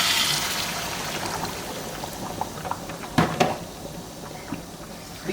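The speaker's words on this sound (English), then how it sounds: "We add our 6 cups of water." Water poured into a pot of rice in a home kitchen, a steady gushing splash that settles into bubbling trickles, with a couple of sharper sloshes near the end.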